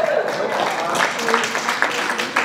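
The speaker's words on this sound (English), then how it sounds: "Give a round of applause." Audience applause at a live mentalism stage show as volunteers are called up, a dense steady patter of many hands filling the room with speech-like crowd murmur mixed in.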